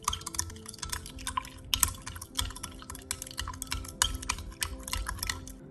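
Liquid African black soap face wash being stirred and mixed in a container, soft wet clicks and light splashy ticks, quiet and close, irregular throughout.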